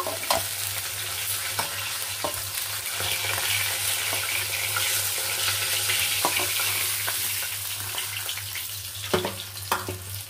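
The rest of a batch of fish heads sizzles steadily in hot oil, with scattered sharp spatters and stirring taps over a constant low hum, close and without talk.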